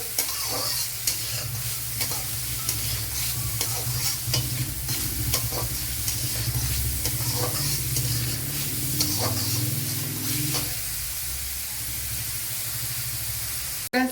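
Onions sautéing in a pan with steady sizzling and repeated stirring scrapes, loud and close, running continuously with no talk, sliced onion softening in hot oil.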